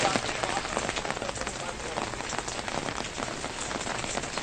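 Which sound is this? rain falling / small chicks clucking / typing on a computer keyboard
rain falling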